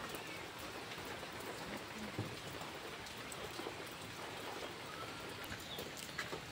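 Steady rain pours over farmland with rice fields, coconut palms and other crops, a dense, even hiss that holds throughout with no talking and occasional faint bird calls.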